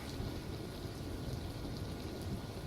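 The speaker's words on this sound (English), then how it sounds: "That is why you hear the rain in this right now." Steady rain falls in a continuous, even hiss with a low rumbling undertone, soft and unbroken throughout.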